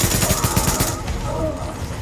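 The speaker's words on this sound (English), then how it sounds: "I just keep shooting at random barrels, hope they explode." Rapid bursts of gunfire in The Division aimed at barrels, a loud automatic stutter for the first second that gives way to a duller rumbling tail.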